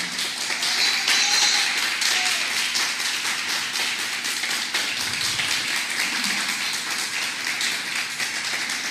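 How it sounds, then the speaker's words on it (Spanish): Church congregation giving a loud applause during a worship service, dense continuous clapping that holds steady for several seconds without letup. "Denle un fuerte aplauso a Dios por esta palabra."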